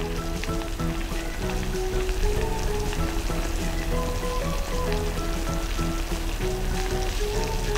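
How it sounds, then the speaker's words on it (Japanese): Lightly beaten egg goes into a waterless daikon hot pot, with a steady, close, crackling simmer and bubbling throughout and faint music underneath. "軽く溶いた卵こうやって入れます"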